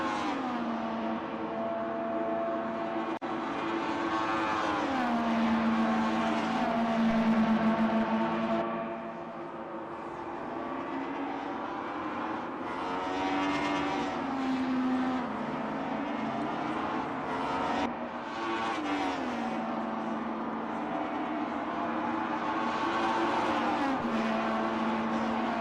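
Race cars lap the Hockenheim circuit in the DTM eSports racing video game, their engines whining and revving continuously through gear changes for the whole stretch, loud and steady with no talk.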